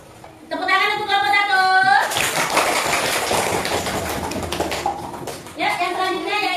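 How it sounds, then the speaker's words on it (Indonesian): A class claps for group 1 in a burst lasting about three seconds. Children's voices are heard just before and right after the clapping. "Tepuk tangan untuk kelompok"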